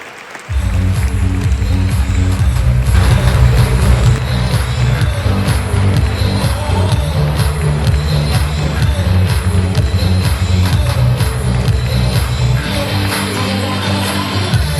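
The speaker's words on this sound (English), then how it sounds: "please give a round of applause." A large audience at a film festival award ceremony breaks into loud, sustained applause and some cheering after a winner is announced, starting abruptly and staying full and even to the end.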